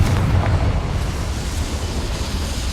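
A Confringo spell blast in the video game Hogwarts Legacy, a loud rumbling eruption of noise that rolls on for a few seconds and slowly eases off.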